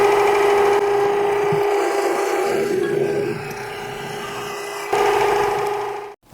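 A bike pannier strut being faced off on a turning machine, giving a steady whining, rasping cut with a sustained tonal hum that shifts midway, then winds down and stops near the end.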